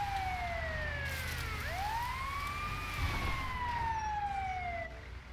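An ambulance siren in GTA V wails with sweeping rising and falling tones, moderately close, then cuts off near the end over a low background rumble.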